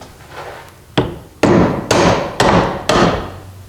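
Five sharp hammer strikes on a 1976 Ford Granada during an engine swap land about half a second apart, close and loud, each ringing briefly before the next.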